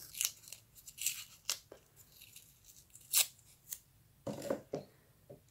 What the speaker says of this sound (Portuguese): Vocês vão tirar aqui um pouco da fita cola.